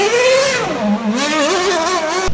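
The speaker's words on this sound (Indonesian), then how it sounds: "Mobil balap F1, keren sekali ya." High-pitched engine of an F1 race car revving, its whine sliding down then climbing again in a rising, wavering pitch, loud and close with no talk.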